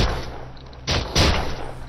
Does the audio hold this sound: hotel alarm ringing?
no